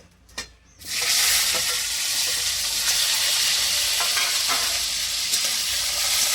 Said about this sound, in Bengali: এবার আমি দিয়ে দেবো এখানে যে টমেটো কুচি